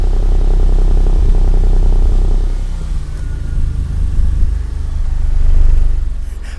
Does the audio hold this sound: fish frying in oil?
no